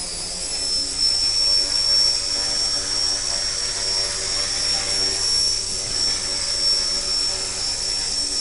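A Walkera Master CP radio-controlled helicopter lifting off, with its steady high-pitched rotor whine and motor buzz held loud and close throughout, without pause.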